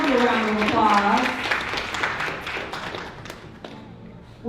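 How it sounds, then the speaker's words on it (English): Audience at a birthday tribute concert clapping for a performer's family, a scattered patter of applause under a talking voice, fading gradually over several seconds. "Give your family a round of applause."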